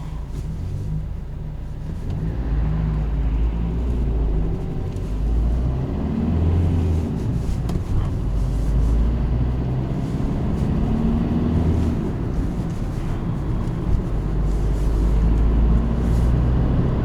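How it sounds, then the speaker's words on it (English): A small turbocharged car engine drones steadily from inside the cabin, a low rumbling hum with swelling whooshes as it pulls between gear changes, no voices present. "I never had a car with a turbo before, so I quite enjoy that new sound."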